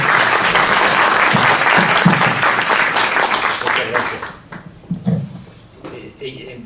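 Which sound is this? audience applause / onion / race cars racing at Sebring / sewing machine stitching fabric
audience applause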